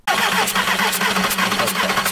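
A VW Golf IV diesel engine is cranked with its injector line nuts loosened, giving a loud, steady starter-motor churn with rhythmic pulses, about two seconds long, close up with no talk.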